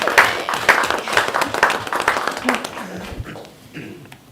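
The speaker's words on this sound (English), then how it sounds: "give you a round of applause" A round of applause breaks out at a school board meeting, a short burst of clapping from a modest room of people that tapers off, with some talk in the room near the end.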